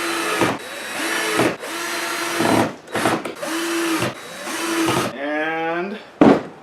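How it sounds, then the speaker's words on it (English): A cordless power drill drives screws into hidden hinges on a 14 ft jon boat hatch, loud close whirring bursts starting and stopping in quick repeated runs, with a short rising whine and a thump near the end, talk underneath. "I'm going to pull it back open and put the rest of my screws in"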